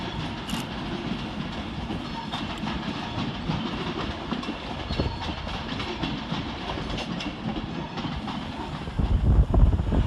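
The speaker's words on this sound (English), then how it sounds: "This train is formed of 3 coaches." A train moving through Crewe railway station, with steady rolling rumble and rhythmic clickety-clack of wheels over rail joints, growing louder and heavier toward the end.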